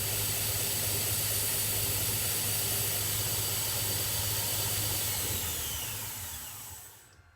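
Belt grinder running steadily while shaping a faceted knife handle, a loud continuous whine with a strong low hum and a high tone, then winding down and fading out near the end.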